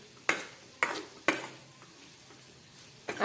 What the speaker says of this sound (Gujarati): આ રીતે સારી રીતે તેને મિક્સ કરવાનું.